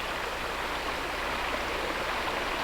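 Water in a creek rushes steadily, a soft continuous hiss of flowing current with no voices.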